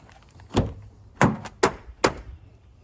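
The door of a 2016 Toyota Tundra pickup with a worn door check strap gives four separate sharp clunks, one near the start and three bunched close together afterward. The noises are loud and near, with near silence between them.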